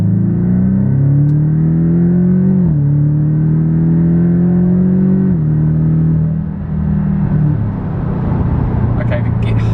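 A Porsche Boxster GTS with a salvage history pulling away under acceleration, its exhaust droning loud and close, pitch climbing through gear changes with brief dips between shifts.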